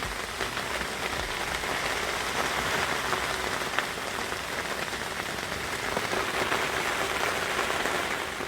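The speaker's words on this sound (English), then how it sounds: "Well, it's raining. Pouring." Heavy rain pours steadily, a dense constant hiss of drops hitting surfaces with no pauses.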